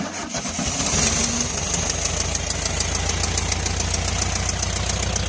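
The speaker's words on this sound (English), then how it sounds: "Engine started, pretty nice and easy." An air-cooled engine of a 1973 Volkswagen Karmann Ghia, unstarted for 28 years, cranks briefly, catches, and settles into a loud, steady, rhythmic idle with a clattering chug.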